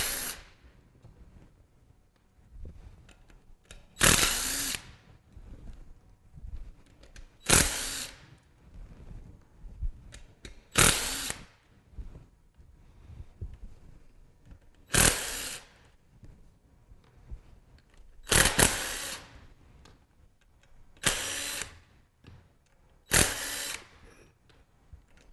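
A power driver whirs in seven short, loud bursts, removing screws from the cap of a manual pump. Quiet handling sounds fill the pauses between the bursts.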